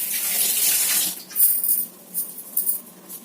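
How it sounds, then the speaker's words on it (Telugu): Hands being washed under a running kitchen tap, a steady splashing stream at first, then broken rushes and splashes as the hands move through the water, close by and alone. "చేతులు అయితే కడిగి వేసుకుందాం."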